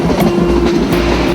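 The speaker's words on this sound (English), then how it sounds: "The engine slowly pulls the train through the most beautiful forests and hills." A train hauled by an engine rolls through forested hills in India, with a continuous close rumble of wheels and faint rhythmic clacks on the rails.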